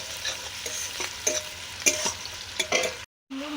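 Onions sizzle in a hot pan while a spatula stirs them, producing steady frying hiss punctuated by sharp scrapes and clinks, ending in a short silent gap before the sizzle returns.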